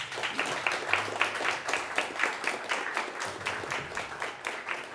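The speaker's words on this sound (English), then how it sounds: "please give them a round of applause" At a climate and energy seminar, a moderate-sized audience applauds with steady, rhythmic clapping that holds an even pace for several seconds.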